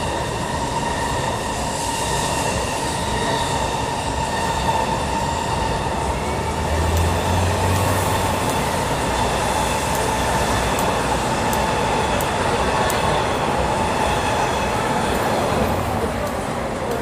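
A Shinkansen bullet train rumbles along elevated tracks overhead in Tokyo's Shimbashi area at night, a loud continuous roar with faint high squeals and city noise beneath.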